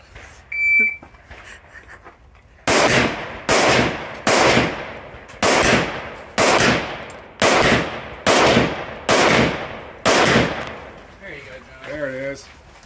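Rapid gunfire at an outdoor 3-gun shooting match rings out as about nine loud, evenly spaced shots, each with a ringing echo, followed by a few electronic beeps from a shot timer.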